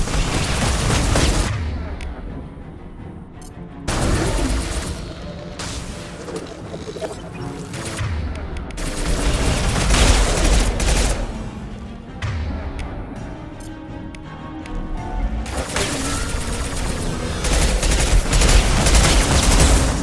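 Bursts of gunfire from the video game Mass Effect, loud rapid volleys and booms recurring throughout, with brief lulls between exchanges.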